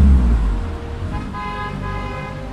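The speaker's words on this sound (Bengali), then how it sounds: "সাদা গাড়িটা হর্ন বাজিয়ে বাঁক নিয়ে স্বচ্ছন্দ গতিতে কলকাতার দিকে চলে গেল" A white car sounds its horn in a short honk as it turns away toward Kolkata, the tone standing out clearly over a close engine and low road rumble.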